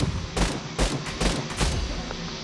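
Rapid bursts of gunfire from a multiplayer shooter video game, four or five loud sharp volleys in quick succession, close and punchy, with no talk over them.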